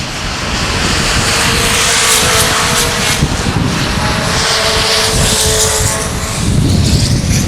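Race cars qualifying for the Fall Fling at Salina Speedway roar loudly and without a break, engine drone swelling and fading slightly as they pass through the turns, with no talk.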